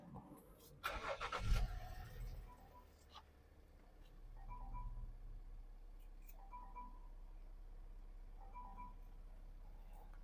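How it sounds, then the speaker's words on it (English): A Land Rover engine cranks and catches with a short loud burst, then settles into a quiet, steady idle hum. "I'll start the car."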